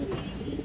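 A khaki male pigeon, active and healthy, gives a short, close, low cooing call, heard alone.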